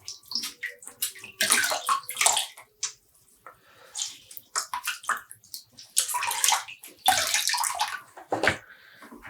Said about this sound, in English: So, squeeze some water out.